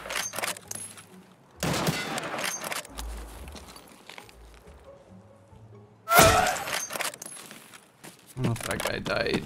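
Gunfire erupts in the shooter game Escape from Tarkov as a few separate loud bursts of shots, including a sharp, heavy volley midway, mixed with voices talking over the action.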